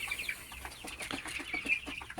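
Small farm flock of tiger chickens clucking faintly in a steady scatter of short, overlapping calls, with no one speaking.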